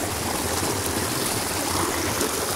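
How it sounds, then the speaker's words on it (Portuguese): A forest stream rushes near a waterfall, a steady broadband wash of flowing water with no pauses, loud and close throughout. "Nossa, tem mais uma cachoeira."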